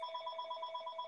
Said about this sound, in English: Excuse that phone.